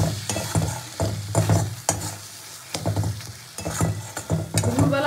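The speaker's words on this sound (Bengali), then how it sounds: "ধনেপাতাটাও খুব ভালো করে মিশিয়ে নেবো" Coriander leaves are stirred into a fish bhorta in a pan, with repeated close scraping strokes and a soft sizzle coming in bursts separated by brief pauses.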